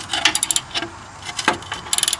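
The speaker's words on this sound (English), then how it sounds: "I'm tightening them down before I torque it." Ratchet snugging the front lower control arm bolts on a Nissan Rogue, a close, loud run of rapid clicking bursts broken by pauses and a metallic clank as the wrench swings, with no speech.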